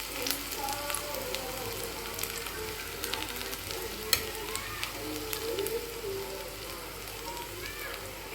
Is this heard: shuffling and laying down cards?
no